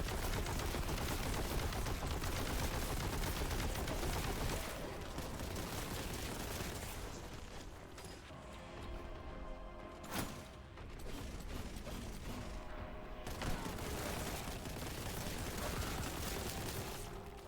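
Bolter gunfire in Warhammer 40,000: Boltgun, long rapid bursts of mechanical shots clattering on and off, loud and close, with a brief pause in the middle before firing resumes.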